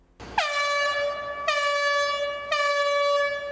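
An air horn sounds three loud, close, steady blasts at Dry Fork Station power station as a warning before an airblow, each blast held about a second with no talk.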